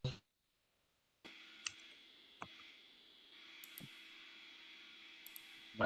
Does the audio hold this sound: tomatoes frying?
no